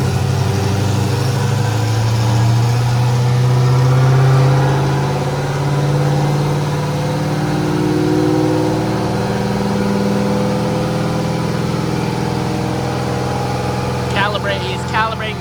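An LS V8 swapped into a Nissan 350Z runs on a dyno, a loud steady engine drone with shifting low tones throughout, easing slightly toward the end as a voice briefly speaks.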